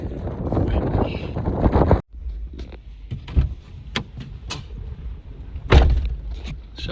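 Gusty wind buffeting a microphone outdoors on a desert mule deer hunt, with rumbling bursts that cut off abruptly and return in uneven surges, loud and close.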